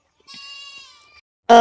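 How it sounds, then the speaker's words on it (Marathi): A single goat bleats in a long, wavering cry, followed after a short pause by a louder, abrupt second call that cuts off. "शेळ्या वरडायला लागल्या त्या"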